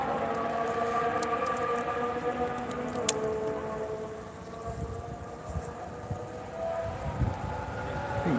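A Haas Formula 1 car passing at Barcelona testing, heard as a high engine whine that rises in pitch and then falls away. Wind blows steadily at the trackside, with a sharp click partway through.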